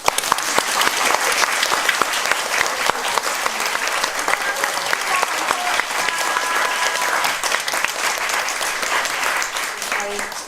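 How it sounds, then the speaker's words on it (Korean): Sustained, dense applause from a theater audience at a musical's curtain-call stage greeting, steady and loud throughout with some voices mixed in. "다 같이 박수를 한번 시작!"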